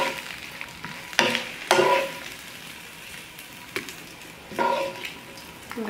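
Onions frying in a pan over an open hearth fire, a soft steady sizzle broken by several louder scraping, stirring bursts.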